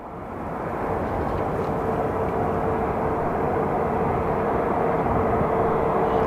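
Southwest Airlines jet, flight 2193, at Phoenix Sky Harbor Airport, a steady loud engine roar that swells in over the first second and then holds constant and near throughout.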